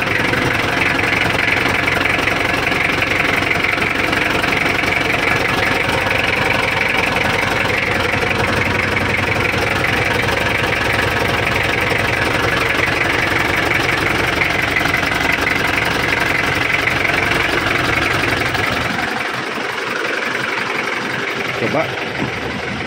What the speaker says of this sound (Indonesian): Kita tunggu sebentar karena masih dingin mesinnya, baru kita tes.